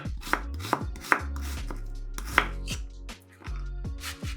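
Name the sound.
knife chopping an onion into small cubes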